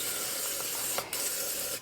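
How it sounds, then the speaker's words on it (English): Quick Scrub cleaner sprayed onto the trigger group of a Benelli inertia-driven shotgun, a close continuous hiss with a short break and a second brief burst near the end. "I'm just going to spray this down with some quick scrub."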